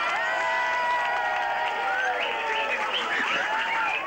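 An audience applauds and cheers to welcome an act at a playback show, a lively clatter of clapping mixed with crowd noise and bright tonal sounds, like music or whistles, that rise over it.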